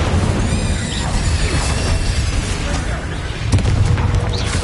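Incendio fire spell cast in Hogwarts Legacy on PS5, a loud whooshing roar of flame with rumbling bursts and crackle, dense and sustained over game combat noise.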